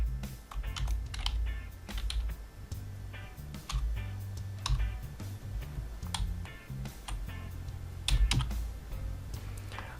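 Quick, steady keystrokes on a computer keyboard as a backup name is entered on a MikroTik router, close and clear, with irregular clicks and brief pauses and no talk.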